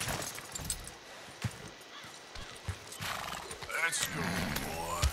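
Horse whinnying and clip-clopping hooves in the Red Dead Redemption 2 video game, a near whinny rising near the end over uneven steps on rough ground, with game ambience throughout.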